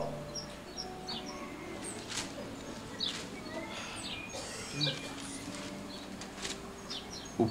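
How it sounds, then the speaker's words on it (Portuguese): Small birds chirping outdoors, with scattered short high tweets and calls over a faint hum of background noise, fairly distant and quiet. "Você não tá vendo que aquilo ali é um pássaro mesmo que tava ali e voou pra lá?"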